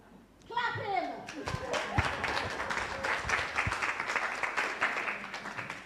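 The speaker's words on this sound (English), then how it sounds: "Clap him!" An audience at a symposium breaks into sustained clapping that swells and carries on evenly, with a few voices heard just before it starts.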